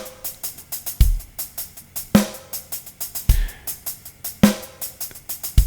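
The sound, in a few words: rhythm pattern of mostly triplets then a group of four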